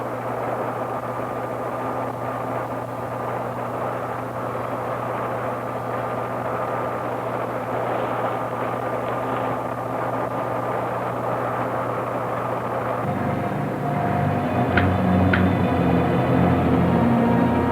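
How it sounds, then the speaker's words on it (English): Rocket blastoff in a sci-fi film: a steady low engine roar rumbles for a long stretch, then swells louder and rougher near the end as the launch builds, with no speech. "Ready for blastoff."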